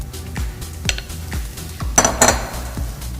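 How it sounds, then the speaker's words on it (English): A spatula scraping cocoa batter off the sides of a bowl for a flourless chocolate cake, a run of close knocks and scrapes against the bowl, with a louder clattering scrape near the middle and no talking. "switch over to the spatula so you can scrape all that cocoa off the sides there"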